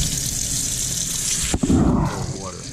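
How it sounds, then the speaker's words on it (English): Water rushes quickly into a stainless steel K cup for a Ninja coffee maker with a steady, loud, hissing pour. The flow shifts to a fuller splashing tone near the end. "The water goes in really quick."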